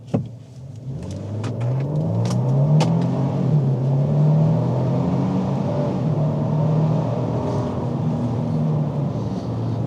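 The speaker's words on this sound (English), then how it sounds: "I'm gonna accelerate fast so you can hear what it sounds like" A 2025 Nissan Armada Pro-4X SUV's engine revs up hard in sport mode and climbs steadily in pitch as it accelerates, loud and close throughout.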